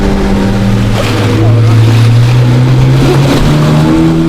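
Motorboats on the river near El Castillo, Nicaragua, give a loud, continuous outboard engine drone with shifting pitch, mixed with wind and splashing water, while people talk faintly in the background.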